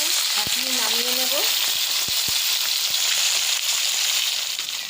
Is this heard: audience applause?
no